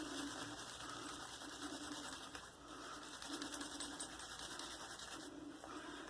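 Horsehair shaving brush swirled against a puck of Mitchell's Wool Fat soap to load lather, a fast continuous scrubbing and whisking close up, steady and rhythmic, no talk.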